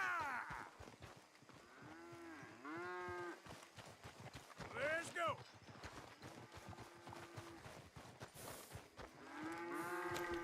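Cattle moo repeatedly on a ranch in Red Dead Redemption 2 while the herd is driven out. The long, close lows come under hoof clip-clop, and a voice speaks briefly.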